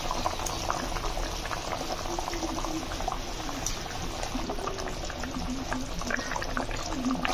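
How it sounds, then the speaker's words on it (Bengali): Fish curry broth at a steady boil in a pot, a continuous close bubbling and simmering hiss with no pauses or voices. "তো দেখো ঝোল ফুটে গেছে"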